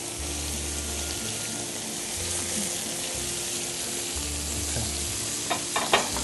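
Tomato sauce hits a hot pan in an Italian restaurant kitchen, giving a steady broad sizzle throughout with low stirring rumbles and a few sharp clinks near the end.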